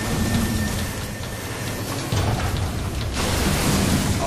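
Train in the video game Crysis 3 rumbling along with steady low mechanical roar and broadband rail noise, loud and continuous throughout, swelling slightly near the end.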